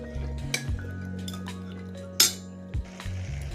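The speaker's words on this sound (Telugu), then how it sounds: "ఇప్పుడు బాగా కలుపుకోవాలి." Chickpeas (senaga guggullu) being stirred in a pan, a spoon scraping and clinking against the metal in a few distinct knocks over a steady low background hum.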